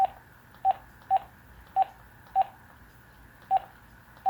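Seven crisp telephone keypad tones sound one after another at uneven intervals, each a short clean beep over faint background hiss with no talking.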